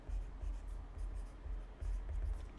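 Marker or chalk strokes on a classroom board while a chemistry lecturer writes out a balanced acid-base reaction equation, a series of short scratchy rubbing bursts with brief pauses between them, fairly quiet and close, with no talking.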